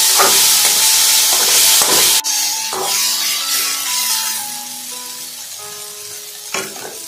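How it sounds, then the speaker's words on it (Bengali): Rice for chicken biryani frying in a hot pan, giving a loud continuous sizzle with scraping stir strokes and a brief sharp clatter partway through, no voices. "এরপর আমি কিন্তু ভাতটাকে খুব ভালো করে ভেজে নেবো এইভাবে।"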